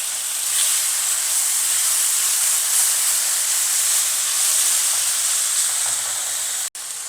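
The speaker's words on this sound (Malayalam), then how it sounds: "ഇത് നന്നായിട്ട് സ്റ്റിർ ഫ്രൈ ചെയ്യാൻ പോകുന്ന മാക്സിമം തീയിൽ വെച്ച് ഞാൻ ചെയ്യുകയാണ് കേട്ടോ." Vegetables and mushrooms stir-frying for Schezwan noodles in a pan over maximum flame, giving a steady, loud sizzling hiss that runs unbroken before a brief cut near the end.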